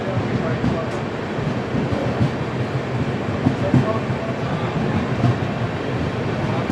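A double decker express train crawls slowly along the rails, heard from inside as a dense, continuous rumble of wheels and carriage noise with faint rhythmic knocks.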